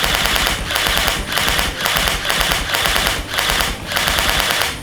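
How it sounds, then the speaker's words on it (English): An Apexinno VR haptic gun firing with no software connected, giving a loud, continuous rapid mechanical rattle pulsing in even bursts about twice a second. "my gun, it's empty, but I can still shoot"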